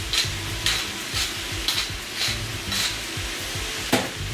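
A stir-fried vegetable dish being stirred in a hot pan: rhythmic spatula strokes about twice a second over a constant sizzle, close and fairly loud, with no talking.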